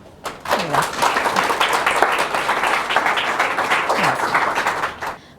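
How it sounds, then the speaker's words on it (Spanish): An audience at a talk on newborn care breaks into loud, sustained applause, many hands clapping steadily for several seconds before it fades, with a voice briefly audible underneath. "Démosles un fuerte aplauso."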